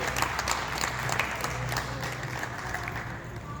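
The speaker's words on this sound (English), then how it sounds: "Let's give these exhibitors a round of applause." An audience claps for bucket calf exhibitors in a 4-H county fair show ring, a steady, moderately distant patter of applause that lasts the whole stretch without fading.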